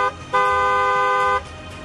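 A single steady car horn blast sounds loud and close for about a second, then cuts off, over a low background rumble.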